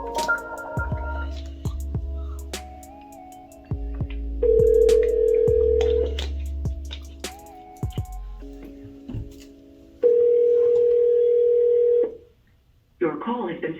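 Phone call being placed and ringing out, with dial tones and button beeps followed by long ringback tones, repeated rings separated by pauses, loud and close, with a voice briefly heard.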